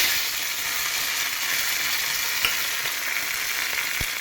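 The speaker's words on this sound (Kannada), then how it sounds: "ಇದಕ್ಕೆ ಒಗ್ಗರಣೆಗೆ ಸಾಸಿವೆ, ಜೀರಿಗೆ ಮತ್ತು ಬೆಳ್ಳುಳ್ಳಿ, ಕರಿಬೇವನ್ನ ಹಾಕಿ ಒಗ್ಗರಣೆ ಕೊಡ್ತಾಯಿದ್ದೀನಿ" Mustard seeds, cumin, garlic and curry leaves sizzle steadily in hot tempering oil, a loud, close, continuous frying hiss with faint clicks and a stirring scrape near the end.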